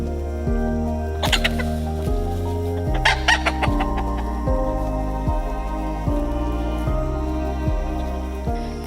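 Chickens clucking near their coop, a steady patter of close calls with a repeating stepped tonal pattern underneath, a few sharp clicks and rustles early on, no talk.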